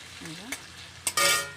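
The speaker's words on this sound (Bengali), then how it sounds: "আলুটা কড়াই দিয়ে দিলাম আলুটা লাল লাল করে ভেজে নেব" Potatoes drop into oil in a wok and fry, a constant sizzle punctuated by a few sharp clatters and a louder hissing surge near the end, with a brief low voice early on.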